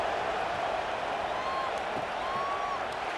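A stadium crowd in College Football 26, with a UAB vs. Tennessee matchup, keeps up a steady, even roar of cheering throughout, with no clear peaks or individual voices standing out.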